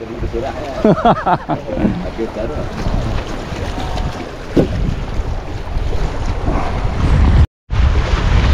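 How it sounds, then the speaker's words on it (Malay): Rough ocean waves churn and crash along a shore under heavy wind buffeting the microphone, a constant roar with a boat's rumble beneath and occasional voices. "Oi, ombak kuat ni."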